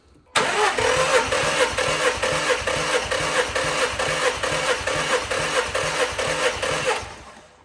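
Car engine cranking on a jump pack during a cylinder compression test, a loud, rapid rhythmic churning of evenly spaced pulses that runs for about seven seconds without catching.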